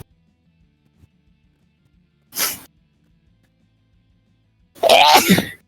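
Two short, sharp bursts of breath, like sneezes, break an otherwise quiet room, the second louder and more voiced than the first.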